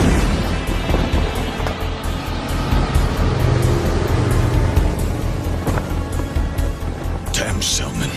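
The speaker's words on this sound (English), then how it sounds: "That's some pretty impressive driving." A car in an anime film is driven hard, giving a loud, continuous engine roar with rushing road noise and a few sharp bangs, all heavily mixed and steady throughout.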